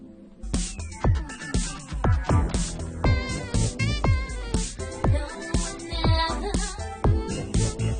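A full music mix plays with everything together: dense, loud, steadily pulsing drums and layered tonal parts form a continuous beat with no talking.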